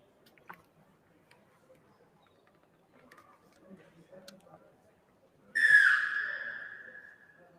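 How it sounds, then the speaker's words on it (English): A referee's whistle at a rugby league match sounds one long, loud, shrill blast that tails off slowly, following a quiet stretch of faint crowd murmur and scattered small noises. "on the referee's whistle."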